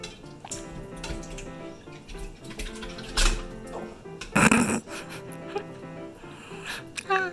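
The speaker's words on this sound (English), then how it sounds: "we're gonna strain the tapioca pearls" Water splashes and drips as soaked tapioca pearls are strained, with two louder pouring bursts amid lighter trickling while someone talks.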